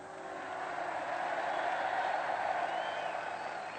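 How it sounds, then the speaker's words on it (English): Soft, polite applause from a crowd at Aston Villa's League Champions civic reception in Birmingham, rising after a moment and holding steadily as a distant wash of clapping. "And the polite applause from the crowd there."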